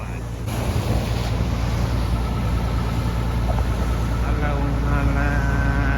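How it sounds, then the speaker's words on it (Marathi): Fishing boat heading home at sea off Mumbai after a bombil catch, a steady engine rumble mixed with wind and water rush, continuous and close, with a voice speaking over it. "चला आपली बोट चालले घरच्या दिशेला."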